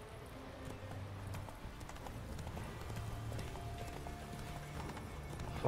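Rhythmic hoofbeats of a trotting horse in The Witcher 3: Wild Hunt clop steadily throughout, close and moderately loud over a low game ambience.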